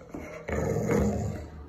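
Pit bull barking on command during trick training, giving a low, growly, rough bark that rises suddenly and holds for about a second, close and fairly loud.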